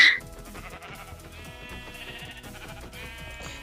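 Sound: sheep bleating in the video game Minecraft

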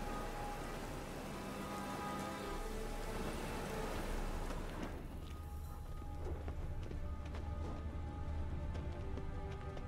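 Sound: rain falling in the video game The Witcher 3

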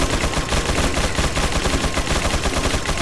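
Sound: shotgun firing in the video game Resident Evil 4

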